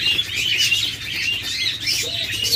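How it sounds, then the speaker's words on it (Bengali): Dense, overlapping chirps and tweets from many Java sparrows fill a bird shop, bright and continuous with no pause, near and fairly loud. "দেখুন অসংখ্য পরিমাণ জাভা পাখি রয়েছে আমাদের কাছে"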